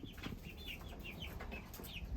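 Hens cluck in short, high, scattered calls at a quiet, slight distance over a low background rumble, in a farm chicken run with a dirt floor.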